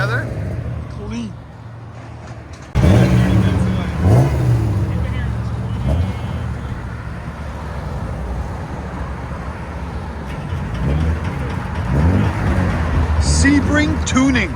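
A 1999 BMW M3 with a 3.2-litre inline-six, catalytic converters removed and a Sebring Tuning muffler, rumbles loudly nearby with some revving under steady engine noise, while people talk over it.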